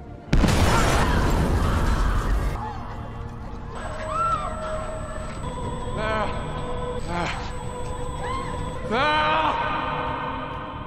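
A sudden loud blast bursts out and roars for a couple of seconds, then gives way to a quieter scene with tonal sounds and cries.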